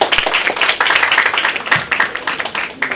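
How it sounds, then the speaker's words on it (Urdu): Audience applause greeting guest speakers at a symposium on an Urdu poet, held at The Muslim Institute: dense, steady clapping from a crowd with sharp hand claps throughout. "ہمارے مہمان مقالہ نگار اور ہمارے علاقائی مقالہ نگار کے لیے بھرپور تالیوں سے استقبال کریں گا"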